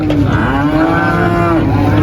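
Limousin cattle at Muntilan livestock market give one long, loud, close moo with a rising, sustained tone, heard alone above a steady market background.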